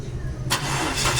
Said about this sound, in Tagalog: So ngayon try namin paandarin.